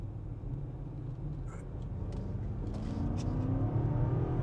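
A 2025 BMW M5 Touring wagon, 717 hp, accelerating hard with paddle-shifter boost engaged: a steady low engine roar that swells and climbs in pitch, held in gear, loud and close, with no talk.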